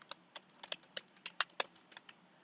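Computer keyboard keys clatter in a quick, irregular run of about a dozen close, crisp taps as Python code is typed, with no talking over them.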